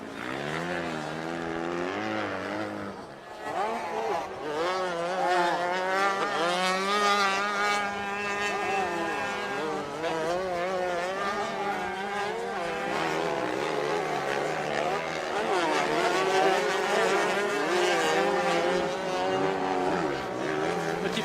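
Junior enduro motorbikes race past on the Le Touquet beach circuit, their engines howling at high revs with shifting pitch as several machines pass in overlapping waves, loud and continuous.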